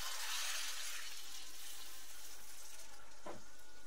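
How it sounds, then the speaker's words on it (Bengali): Water pours steadily into a pan of jackfruit and prawn curry (echor chingri) as a soft, continuous rushing splash lasting several seconds, with a faint clink near the end. "এবারে আমি জল দিয়ে দেবো, মাপ মতো জল দিতে হবে"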